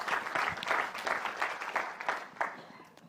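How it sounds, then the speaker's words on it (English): Audience applause at a talk, close and lively clapping with uneven bursts that swell and dip across a few seconds before thinning out. "give yourself a round of applause"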